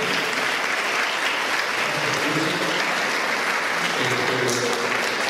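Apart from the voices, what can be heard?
audience applause for Brenda at a conference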